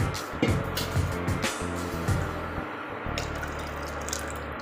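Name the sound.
water being poured into cooking dal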